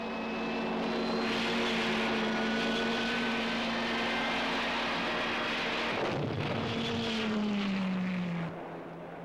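World War II Allied aircraft in flight around D-Day, with a loud, steady propeller-engine drone filling the whole stretch and a shifting engine pitch near the end.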